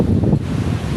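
Strong wind buffets the microphone in a loud, continuous low roar with no pauses.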